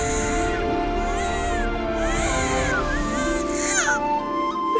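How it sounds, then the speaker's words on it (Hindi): Newborn baby wailing in a hospital delivery scene, continuous rising and falling cries under a steady background hum, fairly loud and close. "हमारा बच्चा रो रहा है सही"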